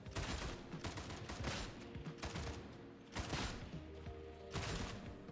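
Vraks Mk III Headhunter autogun fired from the hip in Warhammer 40K: Darktide, rapid continuous bursts of automatic gunfire with a few louder peaks, loud and close over busy game noise.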